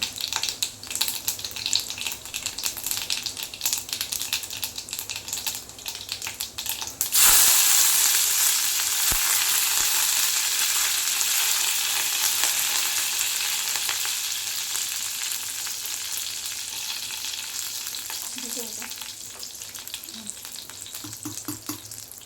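Mustard seeds and cumin are tipped into hot oil for a sambar tempering. A loud burst of frying erupts partway through, then settles into a dense, steady sizzle that slowly fades, with no one speaking.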